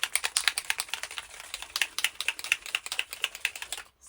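A spray bottle of distress stain, oxide antique linen or old paper shade, shaken hard so its mixing ball rattles in a quick, steady run of close sharp clicks that stops abruptly near the end.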